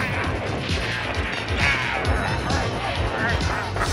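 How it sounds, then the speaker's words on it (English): Broken glass smashing during a Ghostbusters parody skit with retro action figures: a dense, continuous crashing and shattering wash, loud and close, with voices mixed underneath. "You think you can throw more broken glass on me, Egon?"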